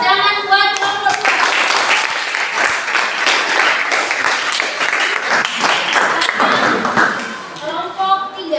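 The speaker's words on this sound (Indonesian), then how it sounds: "Semua tepuk tangan buat kelompok 2" Classroom of students clapping for a group after its presentation, sustained applause from many hands lasting several seconds, with a voice briefly heard at the start and end.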